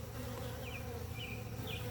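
Honey bees at a hive cutout, their dense buzzing swarm droning steadily and close throughout, with a few brief higher tones rising over the hum.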